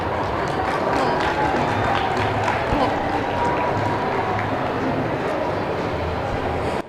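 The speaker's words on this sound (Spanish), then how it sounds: "Un aplauso, por favor" Sustained applause from a live audience at a talk on impostor syndrome, dense and steady throughout with a broad wash of clapping and no clear voice on top.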